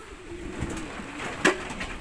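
Racing pigeons coo softly outdoors in Taiwan, a few low throaty calls close by, ending in a brief sharper flutter or call with no talking.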